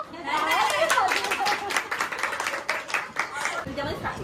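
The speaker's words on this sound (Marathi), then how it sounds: "हो टाळ्या वाजवा." People at a Kelvan pre-wedding ritual clap in a brief burst of mixed, uneven handclaps mingled with lively voices, fading into scattered claps and chatter.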